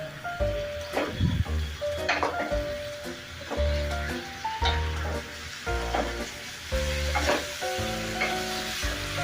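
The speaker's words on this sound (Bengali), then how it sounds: "এবার জোর আছে আমাদের মাংসটা কষাতে হবে।" Chicken pieces fry with ground spices for dum chicken, a constant sizzle punctuated by rhythmic scraping stirs, heard under prominent melodic background music.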